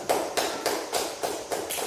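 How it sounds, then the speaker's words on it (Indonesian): A classroom group claps in unison, about seven steady claps in under two seconds, fairly close and even. "Ya, lagi sekali tepuk tangan."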